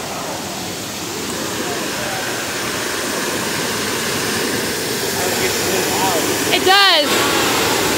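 Steady, loud roar of a nearby waterfall fills the scene without a break, with a brief spoken remark rising over the rushing water near the end.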